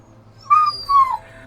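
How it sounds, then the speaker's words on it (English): Two short, high whimpers from a dog named Piccata in the game Wytchwood, each rising then falling, close and clear with a brief gap between them and no talk over them. "Dogs, my goodness."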